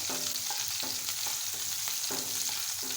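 Green chillies roast in a pan over a high gas flame with a steady, crackling hiss and a few soft scraping stirs, no talk.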